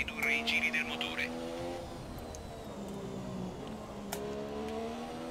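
Formula 1 car engine in the F1 2017 racing game at Silverstone, a steady high whining drone with rising and falling harmonic pitch sweeps as the car accelerates and shifts, continuous and fairly loud throughout.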